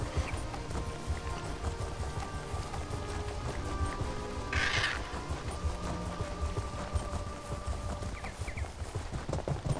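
Horses galloping in The Elder Scrolls Online, hooves clip-clopping in a rapid, continuous rhythm over a busy game soundscape, with a brief bright chime partway through.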